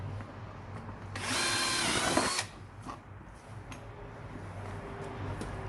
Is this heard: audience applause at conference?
no